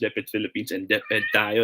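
A pet cat meows repeatedly, close and clear, its tonal cries mixed in with a person talking during a live online speech class broadcast.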